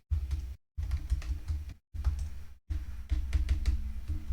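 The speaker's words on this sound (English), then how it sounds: "I can still type pretty fast, so it didn't slow down the typing input." Fast typing on a computer keyboard running a FreeDOS system, dense rapid clicking in bursts broken by brief pauses, close but fairly quiet, with no voice over it.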